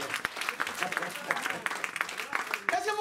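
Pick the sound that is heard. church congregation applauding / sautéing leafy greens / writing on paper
church congregation applauding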